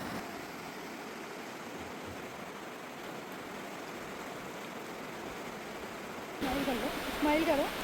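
Steady rushing river water roars close by in a hill valley near Ranikhet, constant and full with a strong current, with voices joining over it near the end.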